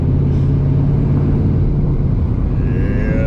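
Dodge Charger Scat Pack 392 with a custom turbo kit producing a loud, continuous, deep engine rumble close by, with a thin rising whine creeping in near the end.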